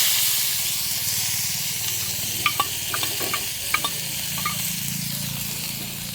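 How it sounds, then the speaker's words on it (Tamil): Onion and tomato saute with cinnamon and clove in a pan before liver is added. A steady hissing sizzle runs throughout, and a few light utensil clicks fall in the middle. "நல்லா வதக்கிடலாம்."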